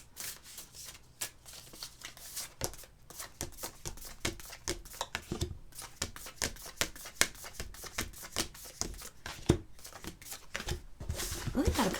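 Cards are shuffled by hand before a few are drawn, giving a close run of soft, rapid riffling flicks and slaps that carries on steadily throughout.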